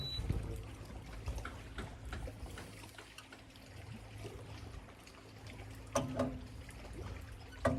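A passing boat's wake laps against a small fishing boat anchored in the shade over a rocky bottom, giving soft irregular slaps and trickling water, close and fairly faint, with a few louder splashes.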